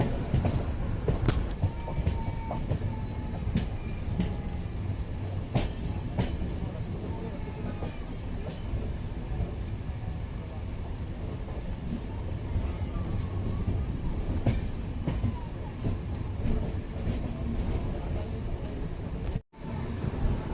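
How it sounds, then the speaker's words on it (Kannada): A passenger train on the Goa to Shalimar route rumbles steadily into Londa junction, wheels clacking over rail joints in an even rhythm, with a brief sharp drop in noise near the end. "ಕರೆಕ್ಟಾಗಿ 9 ಗಂಟೆ 55 ನಿಮಿಷಕ್ಕೆ ಲೋಂಡಾ ಜಂಕ್ಷನ್ ಒಳಗೆ ನಮ್ಮ ಟ್ರೈನ್ ಎಂಟ್ರಿ ಆಗ್ತಿದೆ"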